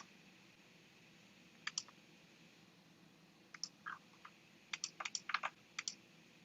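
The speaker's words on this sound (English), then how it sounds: "Let me type all this in" Login details are typed on a computer keyboard, with scattered soft key clicks, then a quicker run of taps in short bunches, faint and close in a quiet room.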